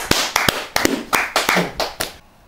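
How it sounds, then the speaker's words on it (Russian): A small studio group claps to congratulate someone, about eight uneven claps over a couple of seconds, close and fairly loud, fading into quiet at the end. "Похлопаем."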